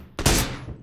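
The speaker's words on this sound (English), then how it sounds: "there's guys on the hill northeast that are shooting at us" A single loud, close gunshot in PUBG cracks sharply and rolls off into a booming echo that fades over most of a second.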